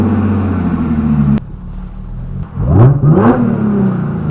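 Audi car accelerating on a joy ride, a loud close engine holding a steady drone, then dropping off and revving back up as it climbs through the gears.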